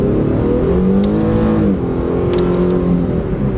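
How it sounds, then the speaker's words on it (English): Infiniti Q50 sedan engine accelerating under throttle, a loud, close-up interior drone with rising and falling engine tones through a gear change, steady and without talk. "I'm gonna give it some gas so you guys can hear it."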